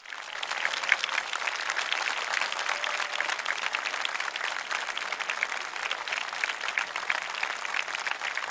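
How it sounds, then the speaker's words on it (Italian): Warm, continuous crowd applause greets a Sardinian folk group's traditional costume parade in Padru, a steady even wash of many hands clapping without pause. "Andate con un applauso bellissimo."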